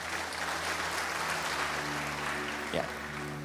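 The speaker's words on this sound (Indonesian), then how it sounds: "Tepuk tangan yang meriah buat Tuhan Yesus luar biasa." A church congregation claps in lively praise, a continuous wash of applause over steady musical tones from instruments, with a brief louder bump near the end.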